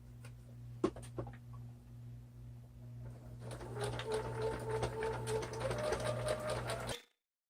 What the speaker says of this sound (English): you also want to stretch your neckband just a little bit as you're sewing